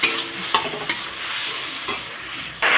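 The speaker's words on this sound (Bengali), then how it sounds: "জল দিয়ে আবারও মশলাটাকে একটু কষিয়ে নেবো" Spice masala cooking down with water in a pan, a strong close sizzle and hiss with a few sharp stirring knocks, steady throughout.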